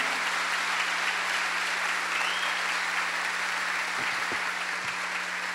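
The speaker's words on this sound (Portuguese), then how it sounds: "Pode aplaudir para valer, pode aplaudir." Church congregation applause fills the whole stretch, dense and steady like rain on a roof, with a low hum underneath and a few thumps near the end.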